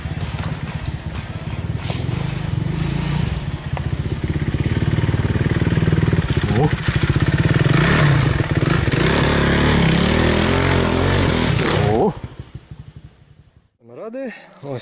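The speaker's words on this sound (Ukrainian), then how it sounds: "хочу показати вам байкерів, які тут драйвують, катаються" Motorbikes roar and rev nearby for several seconds in a forest, engine noise rising and falling as they ride past, then cutting off abruptly into quiet.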